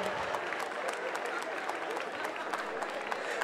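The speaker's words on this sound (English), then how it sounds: "Ladies and gentlemen, a round of applause for Oluchi" An audience applauds throughout at a children's storytime session, dense steady clapping that stays even from start to finish.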